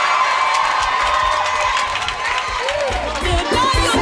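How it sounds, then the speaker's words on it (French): A church congregation at a Sunday worship service cheers loudly, a dense roar of shouting and whooping voices with some clapping, continuous and close, with voices calling out over the crowd. "Est-ce qu'on peut acclamer le Seigneur?"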